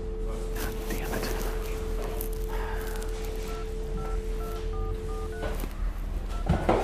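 Phone keypad tones beep in a quick series of short, even pitched pulses over a low background hum and rustling.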